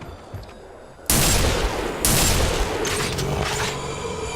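Gunfire rips through a video game as zombies are shot down in a line, loud rapid bursts starting abruptly after a quiet lead-in and continuing with repeated sharp volleys and booms.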